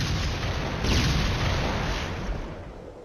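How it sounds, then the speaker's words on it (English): A dense, loud artillery barrage from the Killzone video game rumbles continuously, a wall of booming explosions with no pauses and no voices. "That is no ordinary artillery fire."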